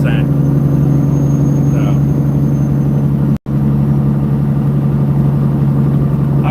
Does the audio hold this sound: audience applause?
no